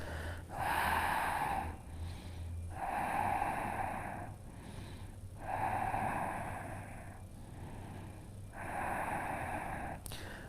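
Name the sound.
breathing during a yoga pose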